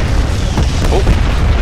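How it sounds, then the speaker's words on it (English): Enemy artillery strike in the Renegade X shooter game: a heavy, rumbling boom rolls through the whole short span, loud and close, with dense low-end blast energy and no clear gaps between impacts. "It looks like there's an enemy artillery strike."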